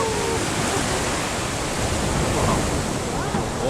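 Ocean surf breaking continuously on Tulaog beach near Infanta, Quezon, a steady loud broadband wash filling the whole moment with no distinct pauses.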